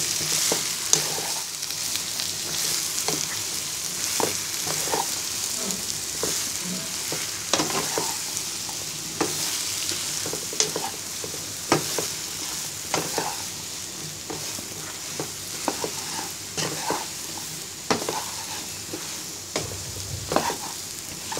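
Cut eggplant fries with browned onions in a pan for a Bangladeshi hilsa fish and eggplant dish, a constant sizzle broken by repeated scraping clinks of a spatula stirring, with no talking.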